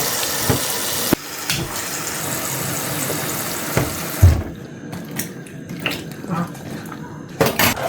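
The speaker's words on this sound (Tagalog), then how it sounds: "Lagyan ng tubig." Tap water rushes into a pot to wash forest-gathered mushrooms, loud and steady, then cuts off to clinks, sloshing and handling noises in a kitchen.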